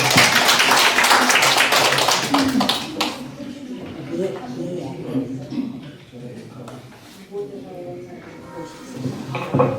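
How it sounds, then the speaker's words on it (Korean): A burst of dense clapping at a national poetry recitation contest in Korea fills the first three seconds, then fades into quieter scattered sounds and people talking. "박수를 맞아주시기 바랍니다"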